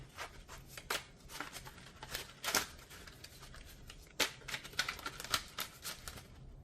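Tarot cards being shuffled with a slightly sticky, uneven riffle, giving bursts of close papery flicks in two main runs separated by a short pause, with no speech.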